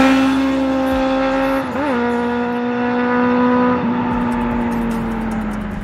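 A Suzuki Bandit 650 motorcycle engine drones loud and close with a strong steady tone, its pitch dipping briefly partway through before holding on as the bike runs hard along a straight road.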